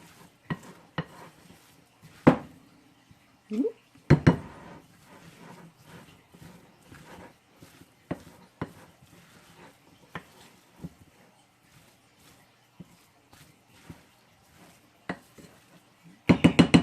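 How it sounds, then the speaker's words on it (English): A spoon clinks and scrapes repeatedly against a bowl while chickpea tuna salad is stirred together, with sharp knocks at irregular intervals and quiet gaps between them. "And stir it all up."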